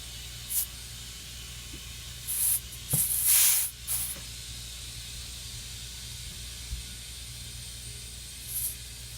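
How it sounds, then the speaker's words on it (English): Short bursts of hissing air from a pump inflating a plugged flat tire, a few quick puffs followed by a longer blast, then quiet with one faint puff near the end. "Now we're going to add some air to the tire."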